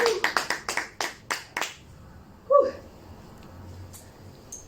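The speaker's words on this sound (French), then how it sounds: "Applaudissez notre Seigneur." Several sharp hand claps in a quick, uneven series ring out in a church worship service, then give way to a quieter room with a brief voice and faint background sounds.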